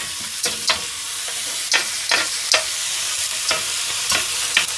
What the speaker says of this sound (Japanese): ジュージュー音がしております